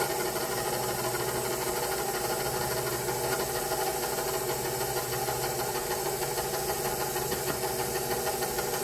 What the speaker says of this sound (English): So I'm going to turn the mixer on stir and just let it fall in a little bit at a time.